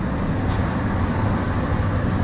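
The Mahanagar Express train rolling from Dhaka's Kamalapur station toward Chittagong on a rainy night, a loud continuous rumble of wheels and carriage noise heard from inside, steady throughout with no talking.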